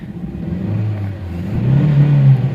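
A Honda Insight with a cylinder misfire revs up, its uneven mid-pitched engine note climbing and then holding high near the end, recorded close with no talking.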